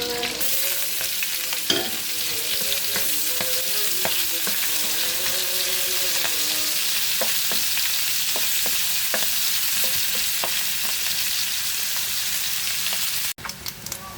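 Onion sautéing in a pan for Filipino pakbet, a steady loud sizzle running throughout with scattered utensil clicks and scrapes and no talking.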